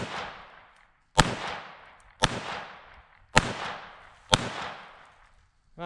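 Four sharp gunshots from a Ruger Mark II pistol fired at a steady pace about a second apart, each crack loud and close with a ringing decay, then a faint tonal sound at the very end.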